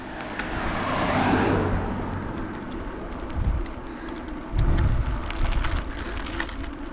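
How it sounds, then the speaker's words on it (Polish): A single car rolls along a quiet country road between fields and woods, its broad rumble swelling at mid-distance and fading out, with another brief pass of noise later and faint birdsong in the background. "No, jedzie pierwszy samochód."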